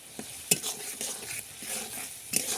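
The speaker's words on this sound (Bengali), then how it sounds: "এবার খুব সুন্দর করে কষিয়ে দিলাম" Spices being stir-fried for khesari dal with lemon leaves: a close sizzling hiss punctuated by repeated metal spatula scrapes and clinks, two of them sharp, with no talking.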